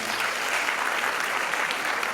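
Sustained applause from a conference audience honoring the overall best candidate at the 72nd WAEC conference in Freetown, Sierra Leone; steady, dense clapping throughout with no break.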